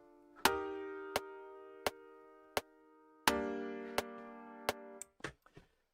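A piano chord struck and left to ring while sharp ticking clicks tap along at a steady pace, followed by a second chord and a few quick clicks.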